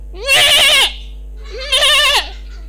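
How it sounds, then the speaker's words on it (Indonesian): A sacrificial goat for Eid al-Adha bleats loudly twice, each cry long and wavering, close to the listener with a steady hum behind it. "Kambing korban nomor 1."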